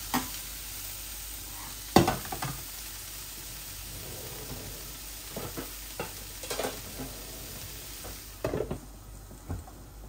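Bitter gourd (karela) frying slowly in a pan over low heat, with quiet sizzling and intermittent stirring scrapes and clinks, a few louder utensil knocks standing out against a soft steady background.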